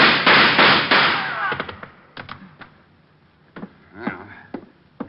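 Gunfire in an old-time radio detective drama: three or four sharp, loud shots in quick succession, then scattered fainter knocks and thuds in a quieter space.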